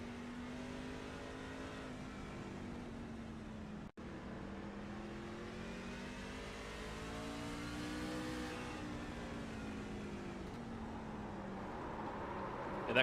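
A race car in a racing video game at Martinsville, its engine droning and rising in pitch through the corners with rear tires hopping, a steady mechanical whine throughout, no talk.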